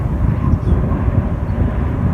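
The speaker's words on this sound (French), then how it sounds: "Un avion français." A steady low roar of an Air France passenger airplane flying over, rumbling continuously with some wind buffeting, fairly loud and close.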